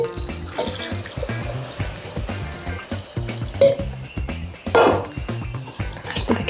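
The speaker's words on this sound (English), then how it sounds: "I'm gonna pour the liquid over the top." Hot pickling liquid is poured over layered carrots and dill in a jar for Asian-style quick pickles, making a steady splashing pour that runs nearly the whole time against a busy, fairly loud background.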